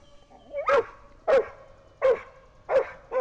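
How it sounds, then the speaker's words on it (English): A dog barks in four loud, excited bursts spaced roughly evenly, reacting close by as a small Ryze/DJI Tello drone lifts off indoors, with a faint steady hum beneath. "And there goes my dog, flipping out."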